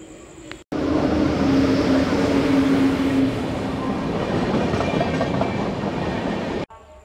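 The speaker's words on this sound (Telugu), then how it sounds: "ఈరోజు మనం జర్నీ చేయబోయే ట్రైన్ నెంబర్ వచ్చేసి 17258 Kakinada port Vijayawada MEMU express train" The Kakinada Port–Vijayawada MEMU express train, number 17258, roars loudly with a steady rumbling clatter, starting abruptly after a brief quieter moment and cutting off near the end.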